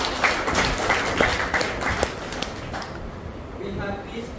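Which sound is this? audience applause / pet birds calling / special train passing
audience applause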